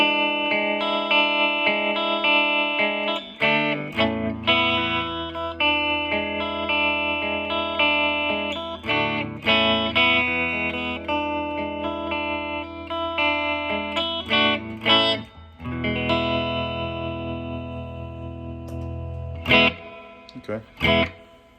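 An electric guitar plays sustained chords and notes through a Silverface Fender Twin Reverb amp with subtle vibrato and reverb, producing a warm, gently wavering tone with ringing trails.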